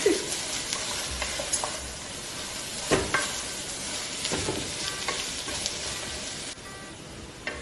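Onions sauté in a hot pan for pepper chicken fry, a constant close sizzle broken by scraping stirs and a few sharp clinks of the spoon against the pan, with no voices.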